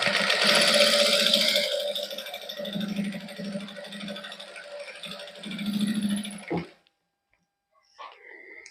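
Sewing machine running in bursts while stitching lace onto a plain suit, a steady buzzing whir that pauses and restarts near the microphone, then stops, followed by a brief clatter.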